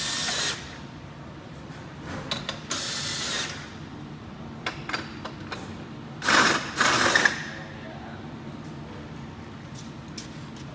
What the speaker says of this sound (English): we're going to use a leveling gun just because it's a little bit quicker